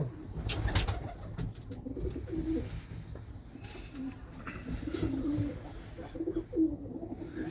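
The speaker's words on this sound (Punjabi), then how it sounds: "ਕੁੰਦੇ ਦੇ ਸਿਰ ਤੇ ਕਬੂਤਰ ਉੱਡਦੇ ਆ" Pigeons coo in low, rolling bursts over a steady background hum, several calls spread across the stretch, close by and moderately loud.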